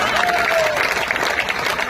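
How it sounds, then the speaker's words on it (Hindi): Audience applause at a Hindi-Urdu comedic poetry gathering, a dense steady wash of many hands clapping throughout, fairly loud and continuous without pause. "ताली बहुत कमजोर है आपकी"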